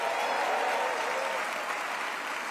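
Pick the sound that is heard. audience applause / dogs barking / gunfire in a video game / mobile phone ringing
audience applause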